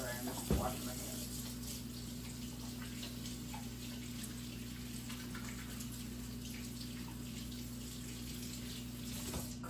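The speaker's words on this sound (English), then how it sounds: "I'm just washing my hands" A kitchen tap runs steadily while hands are washed under it, a soft continuous hiss of water with a low hum beneath and a couple of faint knocks.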